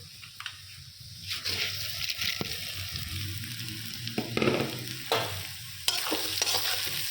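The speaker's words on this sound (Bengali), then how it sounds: "এটা ভাজা ভাজা হবে।" Vegetables sizzle in a hot pan while a utensil stirs and scrapes, producing intermittent clatters over a steady frying hiss.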